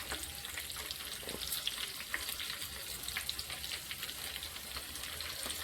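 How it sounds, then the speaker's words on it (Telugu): Garlic cloves and turmeric fry in oil with a continuous crackling sizzle, fairly quiet and close, speckled with small pops and occasional stirring, without speech. "బాగా వేగనివ్వాలండి. కొద్దిగా పసుపు,"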